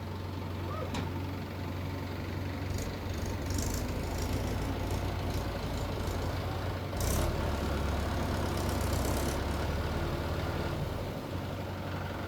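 A tractor engine runs steadily nearby, a continuous low rumbling drone that holds at an even loudness throughout.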